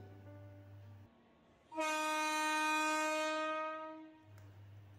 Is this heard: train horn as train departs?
yes